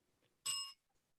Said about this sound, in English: Every time you hear a bell ring, it means that some angel's just got his wings.